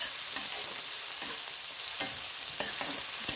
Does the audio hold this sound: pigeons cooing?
no